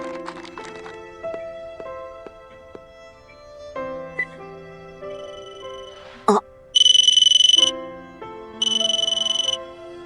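A mobile phone rings in two loud bursts of a bright electronic tone, separated by a short gap, after a stretch of quiet cartoonish music.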